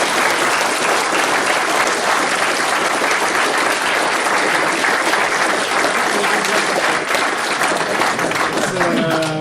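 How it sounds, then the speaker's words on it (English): Sustained audience applause fills a lecture hall after a talk on coral reefs, a dense, steady wash of many hands clapping at close range, with a voice briefly heard near the end. "another big applause for Peter"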